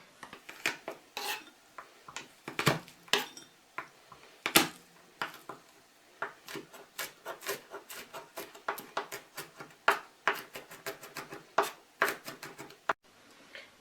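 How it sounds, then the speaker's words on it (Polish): Rapid, uneven knife taps and crunches on a cutting board, close and fairly quiet, as garlic is crushed and finely chopped. "Zmiażdżę go teraz i drobno posiekam."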